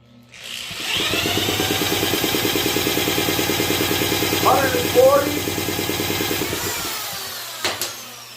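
A 1940s Clinton 700-AM small engine is cranked over at wide open throttle for a compression test, a fast, even chugging rhythm lasting several seconds before stopping, with a brief squeak midway.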